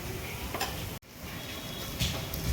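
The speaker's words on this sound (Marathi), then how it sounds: "मसाले व्यवस्थित मिक्स करून घेऊया आणि व्यवस्थित ना याला भाजून घेऊया" Spice masala with curd powder, red chilli powder and garam masala stirring and roasting in a pan, a steady soft sizzle with scraping strokes, broken by one brief pause near the middle.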